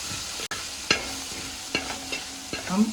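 Turmeric, chili and coriander powder masala stirred in a pan for a Kerala fish pollichathu, a soft continuous sizzle under a few distinct scraping strokes of a spoon, heard close with no talking.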